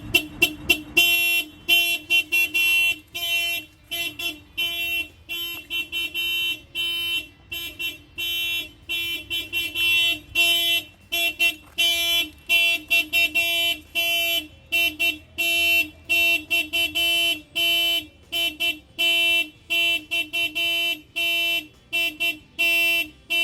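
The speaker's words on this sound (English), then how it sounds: "Then I'm gonna set off his alarm, and then he'll get that alarm alert." A Honda S2000 car alarm going off close by, loud repeating electronic tones and honks in a fast, steady pulsing pattern that runs the whole time.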